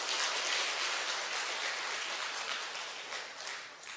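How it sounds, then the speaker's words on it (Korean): Church congregation applauding together in a dense, crackling burst of clapping that holds steady and then gradually fades toward the end. "이때는 박수 한번 쳐요."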